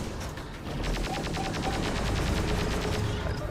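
Rapid machine-gun fire rattles in a sustained burst of evenly spaced shots in the war game Terminator Dark Fate Defiance, fairly loud against a dense background of distant battle noise.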